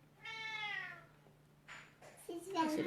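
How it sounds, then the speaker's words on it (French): A cat meows once, a clear drawn-out call, close and moderately loud, in a quiet room where an Easter basket craft is being made; soft rustling and handling noises follow. "C'est le chat."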